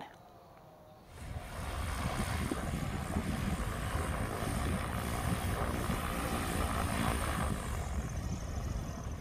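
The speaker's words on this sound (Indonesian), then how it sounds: "Pesawat ringan jenis DA-62 ini dipaksa mendarat oleh TNI Angkatan Udara di Bandara Hang Nadim, Batam." A Malaysian DA-62 light aircraft, forced by the Indonesian Air Force to land at Hang Nadim airport in Batam, gives a steady propeller engine drone that comes in abruptly after a quiet first second and holds loud and constant.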